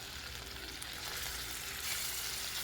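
Chicken coated in cornflour fries in oil over medium heat, making a continuous, close crackling sizzle that swells slightly toward the end, with no voices.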